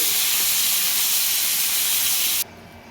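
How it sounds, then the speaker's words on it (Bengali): Crabs frying in hot oil, a loud, dense hiss that holds steady for over two seconds, then abruptly drops to a faint background. "তো যাই হোক, আর একটু ভাজা হোক"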